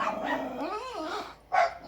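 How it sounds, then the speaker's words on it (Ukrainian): Several dogs barking excitedly and continuously at a rural home, with a sharp louder bark near the end. "І дивлюся, що собаки гавкають так сильно."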